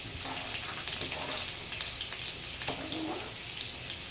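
Garlic and onion frying in a pan for binagoongang tofu, a soft, continuous sizzle with light crackles, fairly quiet and even throughout.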